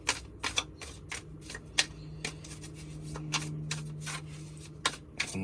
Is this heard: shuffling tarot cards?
yes